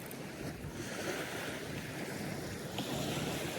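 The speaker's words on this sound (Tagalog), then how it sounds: "Lakas ng hangin, no?" Strong wind buffets the microphone by the sea during overnight fishing in Taiwan, a dense roaring rush mixed with surf, loud and unbroken throughout.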